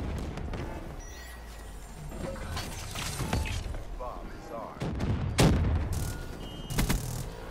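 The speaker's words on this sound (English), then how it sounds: "I tried shooting at one of them right here" Gunfire in a shooter game, scattered sharp shots and a few louder cracks over a busy, rumbling battle background, with a voice talking over the action.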